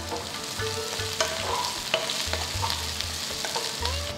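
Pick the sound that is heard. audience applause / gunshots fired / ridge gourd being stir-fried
ridge gourd being stir-fried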